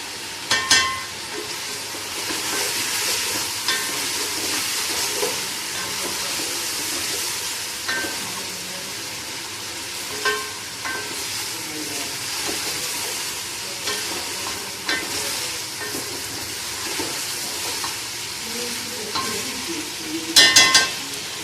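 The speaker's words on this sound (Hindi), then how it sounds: "हम मुर्गी ब्राउन घी में करते हैं।" Chicken pieces browning in hot ghee for a home-style curry, with a steady sizzle and repeated scraping stirs of a spoon in the pan, moderately close and continuous, with a few louder clanks near the end and no talking.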